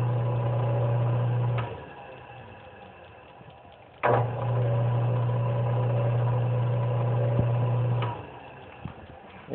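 A wood lathe motor hums steadily in two running stretches, starting with a sharp onset and stopping abruptly, a close mechanical drone with faint vibration between the bursts.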